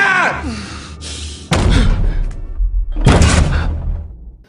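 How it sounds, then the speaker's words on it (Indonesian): Zombies break down an apartment door: heavy slamming thuds and crashing impacts come in bursts, loud and close, mixed with shouting and gasping voices. "pintu apartemennya pun didobrak"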